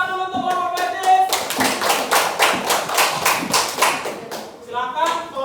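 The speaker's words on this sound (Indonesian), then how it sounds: "tepuk tangan dulu untuk kelompok Flash Disk." Students in a classroom clap for a group, a short burst of close, loud rhythmic hand claps between stretches of a speaking voice.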